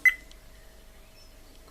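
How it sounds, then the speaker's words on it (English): A single short, high electronic beep from an Akaso Brave 6 Plus 4K action camera as recording starts, crisp and close, followed by faint quiet room noise. "get a beep, it's recording"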